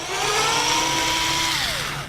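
A power drill whines for about two seconds as it backs a screw out of an embedded screw boss on a pontoon. The pitch holds steady and then drops as the motor slows at the end.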